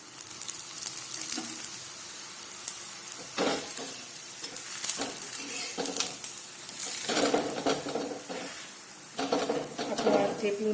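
A bottle gourd thepla flatbread fries in oil on a griddle with a low continuous sizzle. Several louder scraping and clattering bursts come from the spatula, close by.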